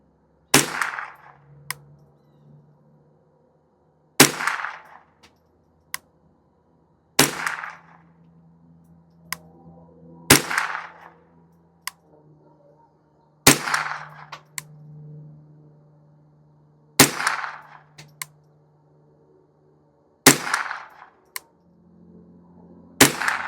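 Rifle shots fired one at a time on an outdoor range while sighting in a MidTen 3-9x32 AO budget scope, about eight sharp loud cracks spaced a few seconds apart, each with a short decaying tail and quiet gaps between.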